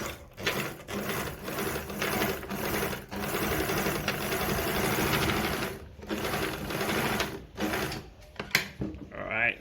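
A Jones model 461 sewing machine runs a zigzag stitch with a close, steady mechanical clatter that stops and restarts a few times and then halts near the end.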